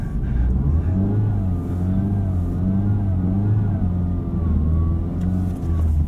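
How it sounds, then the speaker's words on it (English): A Honda Civic Type R FL5 spins a reverse donut on a winter surface, its engine holding a steady loud drone whose pitch rises and dips as the revs sway, close to the microphone. "here's about the only fun thing you can do in a Civic Type R, and it would be a reverse donut"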